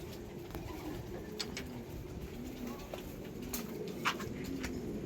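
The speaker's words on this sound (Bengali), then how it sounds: "আর পায়রা উঠছে ওপর নিচ করছে" Pigeons at a rooftop loft coo softly and repeatedly in low rolling murmurs, faint and somewhat distant, with light background noise and occasional small knocks.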